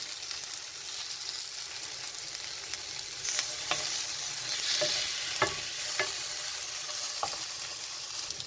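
Tomato pieces roasting in a pan over a low flame, a soft steady sizzle with several sharp clicks and taps as the pieces are turned one by one, close and with nobody talking.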